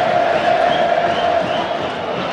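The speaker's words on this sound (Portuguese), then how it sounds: "E a torcida já fica na expectativa de um tiro direto." Palmeiras fans in a Brazilian league football stadium awaiting a free kick, a dense, sustained roar of chanting and cheering, loud and steady throughout.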